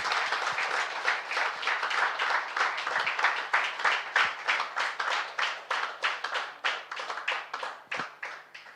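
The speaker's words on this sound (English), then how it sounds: "Let the applause continue from here on towards the breakfast" Audience applause at a company stock listing ceremony, a sustained round of clapping from a modest indoor crowd with individual hand claps audible, the pace loosening and thinning toward the end.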